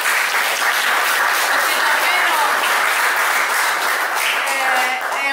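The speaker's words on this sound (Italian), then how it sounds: "Io vorrei fare un applauso." Audience applause at an archaeology lecture in Frasso Telesino, dense steady clapping from a hall full of people, sustained and even for several seconds with no voices over it.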